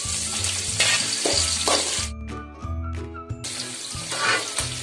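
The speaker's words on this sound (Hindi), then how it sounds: "उसी ऑयल में जो हम बीन्स लिए थे ना, एक कप बीन्स फ्राई करेंगे।" Beans sizzle and crackle as they fry in hot oil in the pot for a Hyderabadi vegetable biryani, a loud continuous hiss with a brief pause midway, up close and with no voices.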